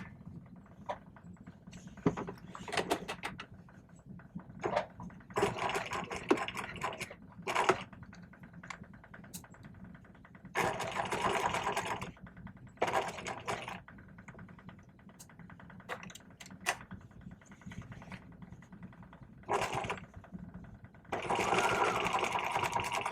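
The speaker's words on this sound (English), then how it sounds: "And we're going to stitch this at 5/8 of an inch." Sewing machine stitching a seam at a 5/8-inch allowance while making a welt pocket on a vest, running in repeated bursts of rapid whirring separated by short pauses, close and moderately loud, with no talking.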